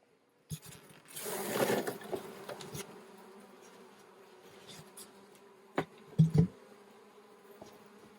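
A steady hum of many honey bees buzzing close by, with a burst of louder scraping and shaking as bees are shaken off hive frames early on, and a couple of soft knocks later.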